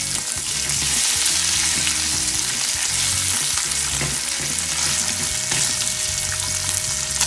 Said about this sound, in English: Alright, let that sizzle still.